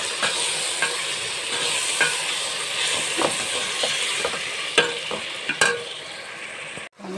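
Onions and tomatoes sauté in a pan for chicken biryani, giving a steady broad sizzling hiss with occasional soft clicks of a spoon and a brief clatter near the end.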